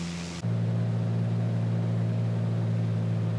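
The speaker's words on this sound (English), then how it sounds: "You can hear the power coming back." A light airplane's engine eases back in power as the plane levels off after climbing out of the traffic pattern, an abrupt change near the start followed by a steady, continuous cabin drone.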